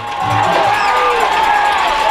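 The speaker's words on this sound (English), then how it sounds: "Crowd coming to its feet here at Paul Ward Stadium in Huntington." A crowd rises and roars at a high school football game at Paul Ward Stadium in Huntington, the cheering building quickly into a sustained, loud wash of voices and whoops.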